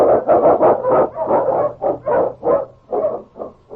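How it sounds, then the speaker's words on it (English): An Eskimo sled lead dog barks loudly and close in a rapid rhythmic series of about a dozen deep barks, each short and evenly spaced, with no voices. "The Wonder Dog King, swiftest and strongest of Eskimo lead dogs, blazes a trail through storm and snow"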